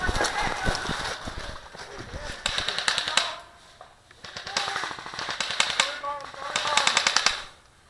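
Rapid bursts of airsoft gunfire crackle during a match, in several rattling volleys, with people talking over and between them.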